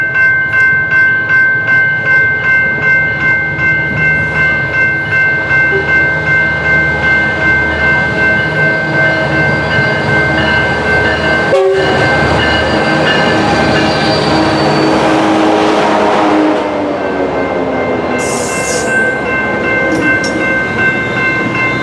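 A Metrolink commuter train passes at close range in Glendale heading toward Lancaster, loud rumbling wheels and clattering cars with a sustained horn blast, building and then fading.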